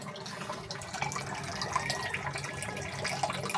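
Water pouring and splashing steadily into a home-built low-cost DIY water tank, a continuous close trickling and filling sound with faint drips.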